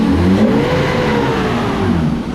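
BMW E36 engine with an idle fault that kept dying, revving up with a loud, close, continuous mechanical roar.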